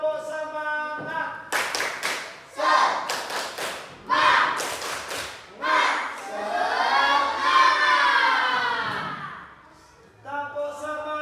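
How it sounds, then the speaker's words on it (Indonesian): Schoolchildren in a classroom perform a rhythmic spirit clap ice breaker, bursts of sharp group claps in a patterned rhythm alternating with loud chanting and a long shout, close and lively. "Kita es breaking dulu, tepuk semangat."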